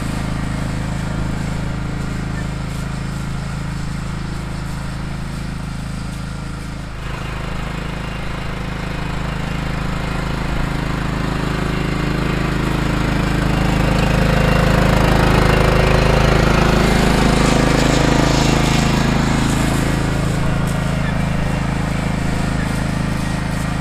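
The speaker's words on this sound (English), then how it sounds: "All right, hop on the old John Deere LT155. Roll it out." A John Deere LT155 lawn tractor rolling a freshly seeded new lawn, its engine a steady close drone throughout that swells a little louder toward the middle.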